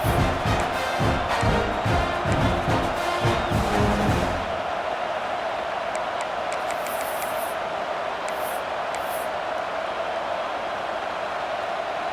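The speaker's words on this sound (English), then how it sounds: "the crowd coming to life here, trying to help this defense down in the red zone" A football stadium crowd roars during an Ohio State vs Florida State game, a loud, dense, sustained wash of cheering. Rhythmic chanting or clapping is heard at first, then it settles into a steadier crowd roar.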